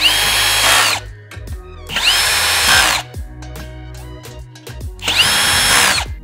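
Power screwdriver driving screws into speaker stand columns, three loud whirring bursts about a second each with short pauses and faint handling clicks between them.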